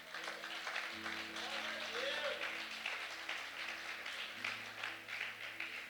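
A church congregation claps together in sustained, dense applause lasting throughout, with steady music tones and some voices underneath.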